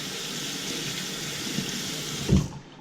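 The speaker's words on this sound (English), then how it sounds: "Open them up, give them a wash." Running tap water flows into a sink as freshly caught trout are rinsed and cleaned, a steady close hiss with a brief louder splash near the end before the flow cuts off.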